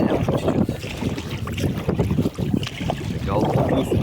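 Wind gusts roughly against the microphone while inflatable kayaks are paddled on a river between Vilnius and Kaunas, a loud, steady roar with brief dips.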